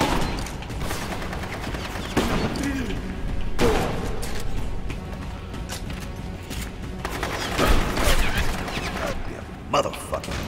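Shotgun fire in the Rogue Warrior video game, several sharp, heavy blasts spaced a second or two apart over continuous combat noise, with someone talking over the shots.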